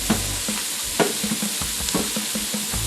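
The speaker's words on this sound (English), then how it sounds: "what we're going to do is kind of just move these shrimp around" Shrimp sizzle in a hot pan as they are pushed around, a loud close crackle with repeated scrapes and clacks of a utensil against the pan.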